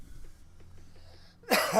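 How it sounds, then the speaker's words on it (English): A single sharp cough bursts out close to the microphone after a near-silent stretch. "come in and cough"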